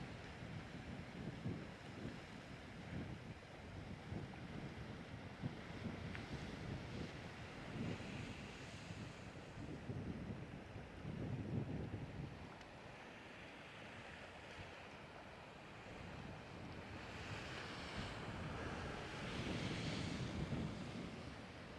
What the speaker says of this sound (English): Some good splash action going on.